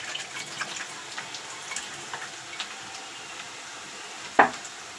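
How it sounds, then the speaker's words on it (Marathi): Onion, garlic and green chili paste fries in hot oil, a soft steady sizzle with faint crackles throughout, capped by one sharp clink near the end. "हे बघा, आपला मस्त असा कांदा लसूण मिरचीचा ठेचा छान असा तेलामध्ये फ्राय होत आहे"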